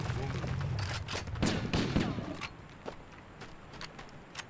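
Gunfire in the shooter game Halo, a burst of rapid shots and scattered single cracks over battlefield noise, loud at first then thinning out, with players talking over it.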